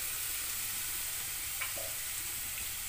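A spice paste of cumin, salt, turmeric and ground green chilli fries in a pan, giving a continuous soft sizzle with a light scrape partway through.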